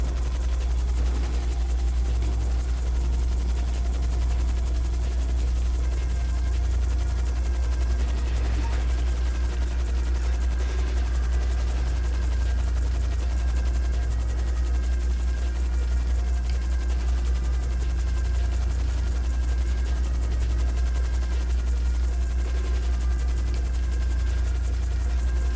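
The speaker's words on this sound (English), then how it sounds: "If you shoot my helicopter down, you're just gonna ruin it for everybody." A helicopter in GTA 5 throbs steadily and loudly throughout, its heavy low rotor drone constant, with faint scattered gunfire-like pops and a voice talking underneath.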